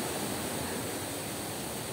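River water rushing near Zamora Falls on the Madlum River, a steady, even wash of broadband noise with no break or voices over it.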